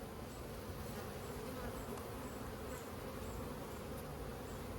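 Honey bees, including big drones, drone loudly and continuously in an open hive during an inspection after requeening, a dense, steady swarm hum close by with no talking.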